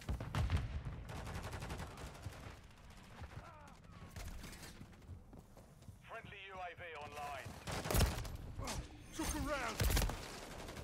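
Gunfire bursts from Call of Duty MW3 multiplayer, several clusters of sharp shots of moderate loudness scattered through the stretch, mixed with speech and game voice lines.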